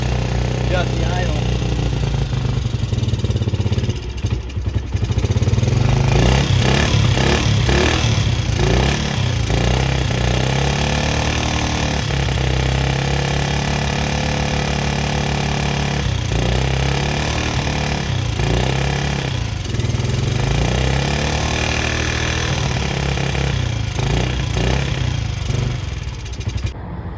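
An old engine, parked for eight years with no compression and now repaired, idles with a steady, loud mechanical chug and clatter throughout, with a voice speaking over it.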